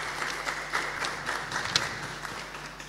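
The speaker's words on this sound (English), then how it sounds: "Let's have a round of applause for Mr." An audience at a lecture-series panel event in Dominica applauds steadily, with a dense patter of clapping held at a moderate level for the whole stretch and no voices over it.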